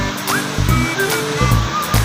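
Surf washing onto the shore at Labason Beach Resort in Zamboanga del Norte, a steady broadband wash with surges roughly every half second, loud and close, with faint voices and other beach noise mixed in.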